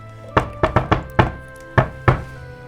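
Knocking on a door, about seven sharp knocks in uneven clusters, fairly close and loud against a quiet background with no talking.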